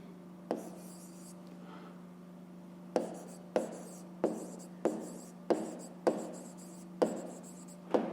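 Pen strokes scratch on paper while fractions are written by hand in a fifth-grade maths exercise. The short strokes come in separate bursts, close and clear, over a low steady hum.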